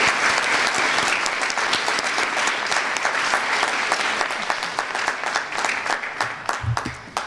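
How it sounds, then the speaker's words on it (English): A school auditorium audience claps steadily at a middle school National Junior Honor Society induction ceremony, dense sustained applause tapering slightly near the end. "Let's have a round of applause for our current members."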